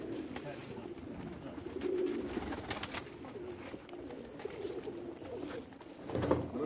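Pigeons on a rooftop give soft, rounded coos close by, with a few sharp clicks or wing flaps and a voice speaking briefly near the end.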